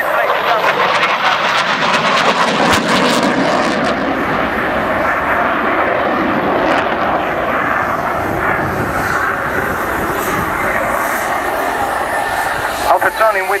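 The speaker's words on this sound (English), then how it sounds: "now testing the aircraft for the last flyby of the display 2015" A Eurofighter Typhoon jet makes its final display flyby at the 2015 Pratica di Mare airshow, a loud, continuous engine roar that fills the whole stretch without letting up.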